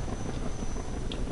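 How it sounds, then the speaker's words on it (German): Helicopter rotor thrumming in the video game Half-Life 2, a steady, loud, dense whir with no break across the short stretch. "Mein Freund der Heli ist wieder da."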